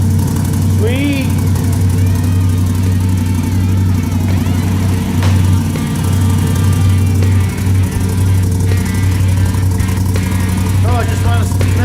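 A Can-Am 570 XMR fitted with an HMF Titan QS exhaust idles with a steady low rumble throughout, close and constant, while a person talks over it now and then.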